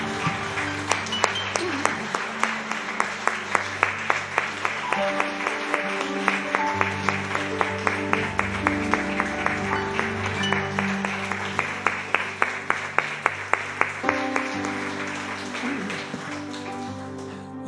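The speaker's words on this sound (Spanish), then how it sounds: "Le damos un aplauso al Señor" A church congregation claps together in a steady rhythmic beat, strong regular hand claps pulsing over sustained organ or keyboard music for the whole stretch.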